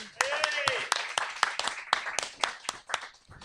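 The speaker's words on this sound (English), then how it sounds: "It's a round of applause for Ash Frith, everybody." A small live audience claps for an arriving guest on stage, a burst of scattered, uneven clapping thinning out over a few seconds, with voices talking over it.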